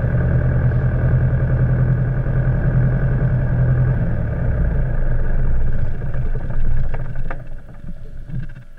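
Diamond DA40 light aircraft engine, rev dropped below 1000 with the alternator switched off, drones loud and close at a steady pitch, then falters and winds down in the final seconds as it shuts off.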